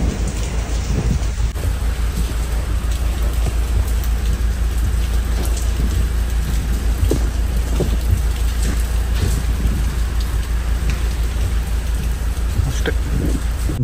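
Heavy rain pours down around a car during a thunderstorm. It makes a dense, continuous hiss that stays steady and loud throughout, with scattered sharper drops and low rumbling beneath.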